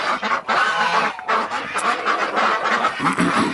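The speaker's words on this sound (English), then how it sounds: "So these are some more Danish geese" A flock of Danish geese honking loudly and continuously, overlapping nasal calls up close with little pause between them.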